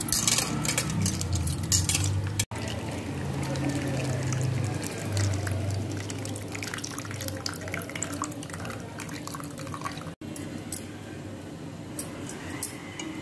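Wet squishing and sloshing of tamarind being dissolved by hand in water in a bowl, with light clinks of a vessel, continuous and close.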